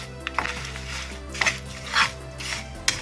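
A spatula scrapes and clinks in a hot pan while coconut, sesame and jaggery are mixed, light irregular metallic taps and scraping strokes over a low background hum, close by.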